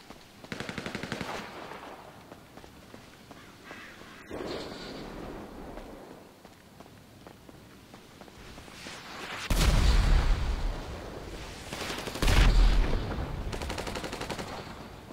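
Gunfire in a GTA V Online deathmatch, with rapid machine-gun bursts followed by louder blasts near the end, heard loud and close with no talk over it.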